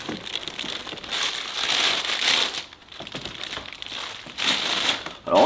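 Packaging for an Anker Solix power kit crinkles and rustles loudly close by as it is unpacked, in continuous waves of crackly plastic with short lulls.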